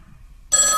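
A telephone line starts ringing abruptly after near silence while calling the electricity office, a loud bright electronic ring tone sustained to the end.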